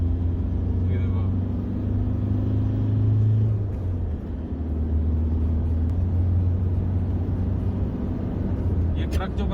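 Engine drone and road rumble from an Isuzu V-Cross 4x4 manual pickup truck at speed on a highway, a steady loud low hum throughout with someone talking over it.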